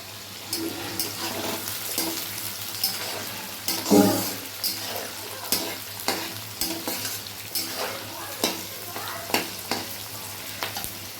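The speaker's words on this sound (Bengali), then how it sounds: "দেখো এখানে পেঁয়াজ দিয়ে দিলাম" Onions sizzle and fry in a pan for a white meat curry, steady crackling broken by repeated stirring scrapes and one louder clatter near the middle, with no talking.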